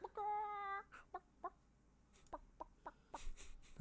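Chicken clucking from a video game: one sustained squawk followed by a string of short, separate clucks and pecking blips, clear and up close with no one talking.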